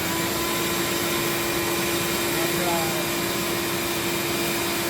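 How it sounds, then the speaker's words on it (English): A workshop dust collector runs at a steady loud whine and rushing drone, a constant tonal hum over broadband air noise with no break, alongside electric guitar body woodworking. "gotta have my dust collector."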